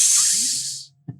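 A voice imitates the hiss of a bottle of Roller Cola being opened: one loud, close, breathy hiss lasting almost a second and fading out, then a brief soft thump.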